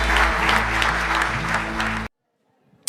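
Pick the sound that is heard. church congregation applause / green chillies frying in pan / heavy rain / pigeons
church congregation applause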